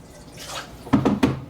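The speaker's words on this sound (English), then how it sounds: "Add a little bit of water." Water pours into a bowl that still holds leftover spices, making a soft trickle followed by three quick, distinct splashing glugs close by.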